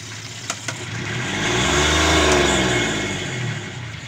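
A boat's engine gets a burst of revs after running low, its tone climbing steadily to a loud peak midway and then easing slightly, heard close with a couple of faint clicks early on.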